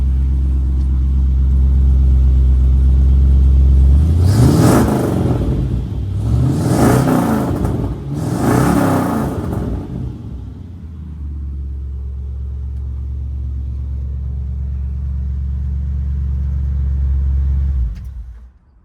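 A 1968 Chevy pickup with a big-block V8 rumbles along the road, swelling through three rising revs before settling into a steady low drone, then cutting off near the end.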